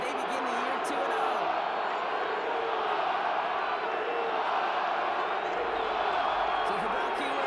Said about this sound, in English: So several thousand 12th men and women cheering as the Seahawks win at home.